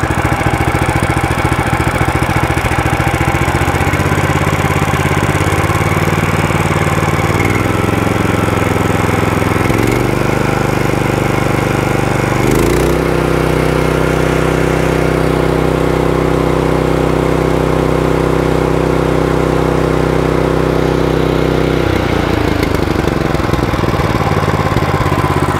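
A new DK2 stump grinder engine runs loud and close right after its first start-up, with the cutting wheel spinning. Its steady droning hum shifts pitch a few times as the throttle changes.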